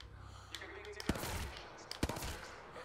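A three-round burst weapon fires in Apex Legends: sharp, close gunfire with two distinct burst impacts about a second apart, followed by fainter mechanical clicks. No one speaks.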